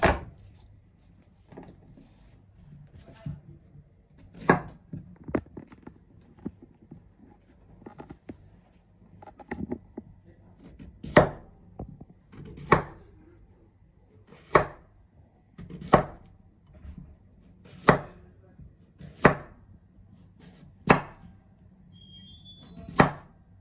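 A knife chops food on a board in a home kitchen in Paris, slow irregular strokes at first then a steady series of sharp, close, evenly spaced cuts, with no talking.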